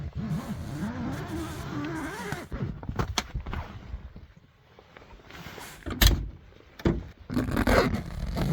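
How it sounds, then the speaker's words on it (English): Zipper being worked on a Kemimoto soft cab enclosure door fitted to a Can-Am side-by-side, with scraping runs of fabric and zipper teeth at close range, a brief lull, then sharp rustles and clicks. "The zipper works great."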